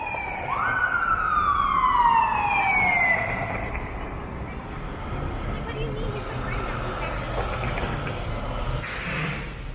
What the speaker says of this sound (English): Oh, they're coming right here.